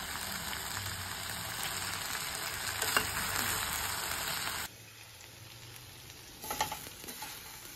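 Chicken pepper curry with shallots frying in a pan makes a close, crackling sizzle. It drops sharply quieter partway through, and a few soft stirring clatters follow near the end.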